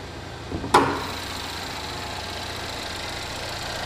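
A 2014 Chevy Equinox with its Ecotec engine idling under the open hood, a steady smooth low hum close by after a brief thump at the start, with no voices.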